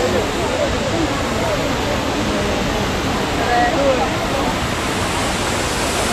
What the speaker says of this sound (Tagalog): Pero ito na siya. Ayan, ang waterfalls.